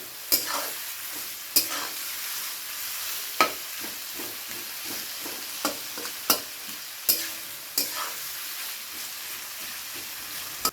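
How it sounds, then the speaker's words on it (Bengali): Sliced onions sizzle and fry in hot oil for a Bengali mutton curry, with a steady frying hiss broken by repeated sharp scrapes and knocks of a spoon stirring the pan, close up and without talk. "এবারে পেঁয়াজটাকে খুব ভালো করে ভেজে ব্রাউন কালার করে নিতে হবে।"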